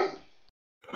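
A single dog bark sound effect, short and loud, played during a tabletop role-playing session, with a brief pause before a second burst begins.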